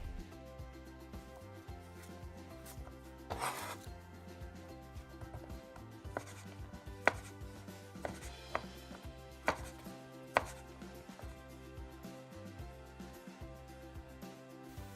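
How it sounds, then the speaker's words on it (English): Garlic being crushed for a dipping sauce, with a run of sharp, distinct knocks and thuds on a board over steady kitchen background noise, the impacts spread unevenly through the clip. "So now we will be crushing up this garlic in order to use in our dipping sauce later on."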